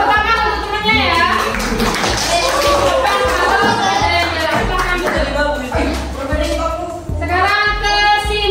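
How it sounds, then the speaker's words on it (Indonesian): Children in a classroom clap for a classmate in a steady run of applause that nearly fills the clip, mixed with lively overlapping child chatter. "tepuk tangan untuk temannya ya"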